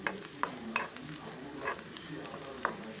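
Ingredients for cabbage thoran are stirred and fried in a pan over a low gas flame, a soft steady sizzle punctuated by light scrapes of the spoon every half second or so, quiet and close.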